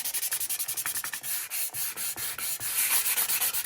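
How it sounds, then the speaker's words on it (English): Sandpaper worked over a wooden object in quick, steady back-and-forth strokes, close and scratchy, with a brief pause before the rhythmic rubbing resumes. "I'm going to do a little sanding on that."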